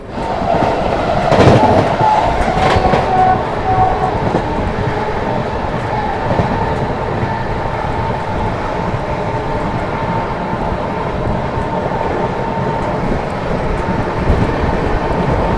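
Mau–Anand Vihar superfast express train running at high speed on an Indian rail line: a steady, loud rumble and rattle of wheels on track continues throughout, with a brief sharper burst early on and no talking.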